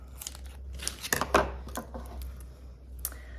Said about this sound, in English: I'm gonna clip that with scissors.